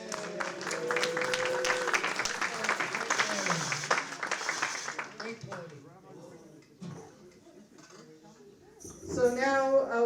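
Applause and cheering from a congregation for the band at a Purim service and shpiel, fairly loud at first, then fading into scattered talk, with a voice rising at the end.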